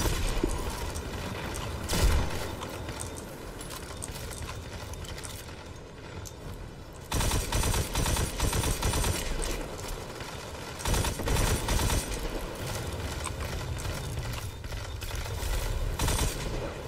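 Gunship and automated turrets unload in the Destiny 2 video game, a dense, continuous barrage of rapid gunfire with heavy bursts and mechanical clatter, loud throughout and building in intensity toward the end.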